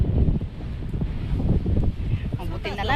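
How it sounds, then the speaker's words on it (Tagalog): Strong wind buffets the microphone on a high hilltop at Kleskun Hills, a steady, close, rumbling roar that is loud throughout, while people talk underneath it. "Sobrang lakas ng hangin kasi mas mataas na bundok na to eh."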